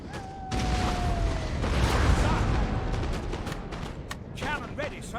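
Musket volleys and cannon fire in a Napoleon: Total War battle with Great Britain, loud bursts and crackling shots layered over a rumbling battlefield roar, with a whistling tone early on and voices talking over the din.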